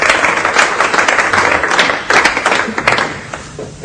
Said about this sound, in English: You can applaud. It's all right.